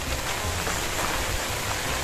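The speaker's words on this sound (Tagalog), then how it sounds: "Uy, nauulan na." Steady rain falls outdoors on a banana plantation, a dense, even hiss of drops on leaves and ground with no pauses, close and fairly loud throughout.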